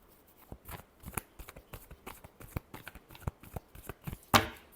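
Close, soft shuffling of tarot cards, a rapid series of papery flicks and taps ending in a sharper riffle snap, quiet with no voice over it.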